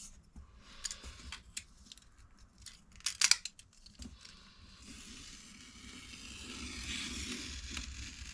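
A utility knife slices through vinyl paper during truck furniture work, a few quiet, sharp scraping cuts with a brief crisp snip near the middle, close and faint against a soft background hum.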